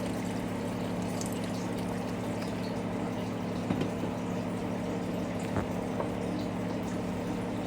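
Water poured into a pot for chicken noodle soup, a soft steady pouring and gentle bubbling over a low hum, faint and continuous.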